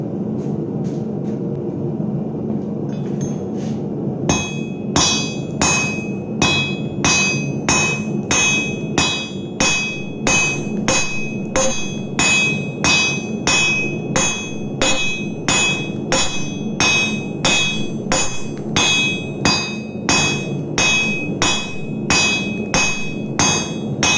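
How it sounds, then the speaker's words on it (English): A hammer strikes hot steel on an anvil made from railroad track with weld buildup, sharp ringing blows repeating at a steady rhythm after a quiet start, loud and close. "So I'm gonna grab the other one out of the heat and I'm gonna hit it in here"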